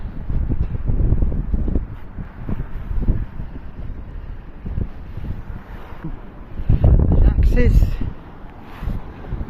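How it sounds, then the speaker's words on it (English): Wind buffets the microphone with low rumbling gusts on a London rooftop, strongest near the end, while a person speaks briefly underneath. "a bit windy"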